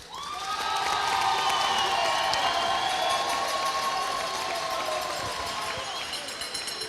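Wedding guests on the left side of a gala hall clap and cheer loudly in a sustained, dense burst lasting several seconds, with whoops and shouts mixed in, fading slightly toward the end.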